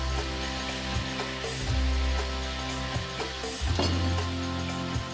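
Ackee and saltfish fry in a wok, a steady sizzle under a low background hum, with several soft knocks and scrapes as ingredients go in and shift.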